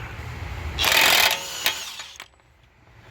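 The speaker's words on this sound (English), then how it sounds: "The DeWalt DCF 899 on the notched axle bolt." A DeWalt DCF899 impact wrench hammers on a notched axle bolt of a 2004–08 Acura TSX, a close, loud buzzing burst lasting about half a second, followed by a shorter hit and rattle before fading to quiet.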